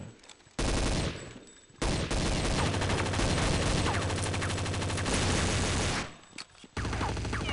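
Rapid gunfire bursts from Counter-Strike: Condition Zero fill the moment, dense loud volleys with brief pauses, near and continuous like a firefight on a stadium map.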